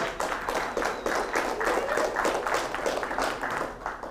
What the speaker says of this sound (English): You can clap, yeah.